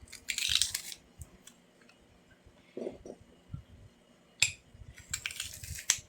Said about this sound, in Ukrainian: видавимо чесничку сюди